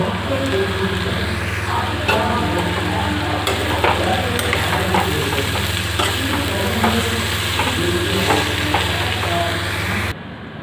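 A five-vegetable chorchori with chopped coriander is stirred in a pan over a constant low hum, with a gentle sizzle and light scraping of the spatula running evenly before cutting off abruptly.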